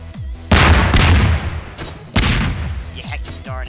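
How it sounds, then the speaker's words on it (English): Explosions from the Garry's Mod Melon Bomber game mode go off as two loud, booming blasts about a second and a half apart, each followed by a rumbling decay, with game sounds and faint talk around them. "with the explosion, Will."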